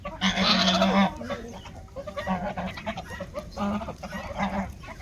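Indian roosters of a purebred fighting line call out in loud, harsh, drawn-out crows and clucks close by, several bursts overlapping one another over a low yard hum.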